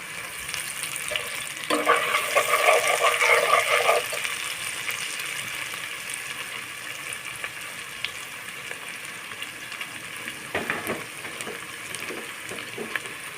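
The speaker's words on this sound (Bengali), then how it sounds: "আমি একটু সময় নিয়ে লাল করে ভেজে নেব" Food sizzling in a pan as it fries to a reddish colour for a banana-flower or brain ghonto, a steady hiss swelling louder early on, with stirring scrapes and a short burst of sizzle near the end.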